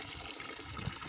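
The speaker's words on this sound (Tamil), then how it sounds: "அப்படியே பக்கெட்லேருந்து தண்ணி எடு." Water scooped from a bucket with a jug, a continuous splashing, pouring wash of liquid, close and moderately loud, with no voices.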